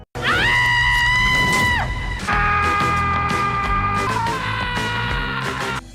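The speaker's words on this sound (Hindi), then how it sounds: "आपकी ये चीख फौरी तौर पर एक पहाड़ी इलाके में लगे स्पीकरों से प्ले कर दी जाएगी" Recorded human screams played from loudspeakers set up in a mountain area: loud, sustained, shrill screams, one giving way to the next, with no break between them.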